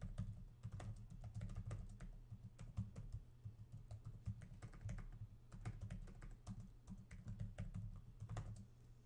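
Rapid keystrokes on a computer keyboard, close and steady, with irregular clusters of clicks running continuously and no voices.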